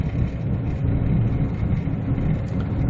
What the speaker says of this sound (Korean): 한번 쭉 밟아보세요. 가속 붙는 게 상당히 빨라져요.